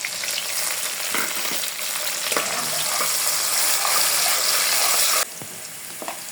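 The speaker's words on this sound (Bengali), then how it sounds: "তেল গরম হয়ে গেছে একটু পেঁয়াজ দিয়ে দেব তেজপাতা গরম মশলা" Onions with bay leaf and garam masala sizzle loudly in hot oil for a deshi chicken biryani, a dense crackle with faint stirring knocks that suddenly drops to a quieter fry near the end.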